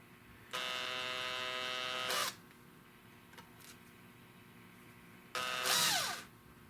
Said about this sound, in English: I'm going to drill the hole all the way through with this, and then I'll enlarge it.